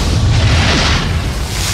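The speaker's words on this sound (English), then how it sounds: "It's just the sheer, terrible beauty of a really dramatic explosion from the inside." A dramatic explosion sound effect for a documentary about destroying the Earth: a loud, dense, sustained roaring blast with heavy low rumble filling the whole moment, no voices.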